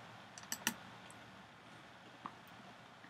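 A few faint, sharp computer mouse clicks on a quiet desk while editing an online JotForm form, sparse and isolated against near silence.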